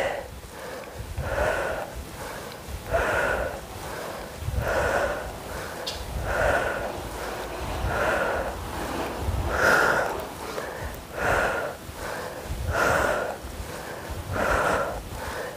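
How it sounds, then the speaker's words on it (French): Heavy, rhythmic breathing in and out during a muscle-strengthening workout, with steady forceful inhales and exhales repeating about once a second, close and clear throughout. "Inspire et expire."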